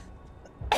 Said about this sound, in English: The fact that I'm still coughing isn't helping either.